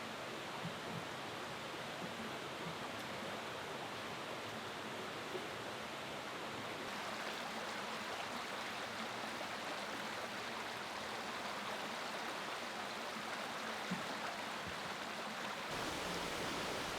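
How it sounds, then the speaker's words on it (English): Lower Falls at Dolgoch Falls in Wales, a waterfall feeding a stream, rushes in a steady, dense wash of white water, constant and unbroken throughout. "So this is really the first waterfall on this walk, and this is called Lower Falls"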